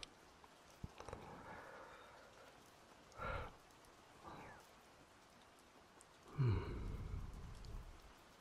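Rain falls during a storm, a faint steady hiss with a few scattered louder bursts and a deeper rumbling swell near the end, quiet and distant-sounding with no voices.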